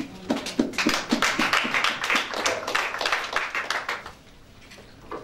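A church congregation at a French-language worship service claps in a steady, rhythmic beat of acclamation, many hands together and fairly loud, fading off near the end.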